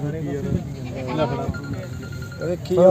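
A Barbari goat bleats repeatedly at the Faridkot goat market, its wavering calls mixed with people talking loudly nearby.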